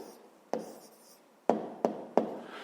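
Pen strokes on paper while a maths answer is written down, heard as a few soft, close taps and short scratches spaced about a second apart in an otherwise quiet room.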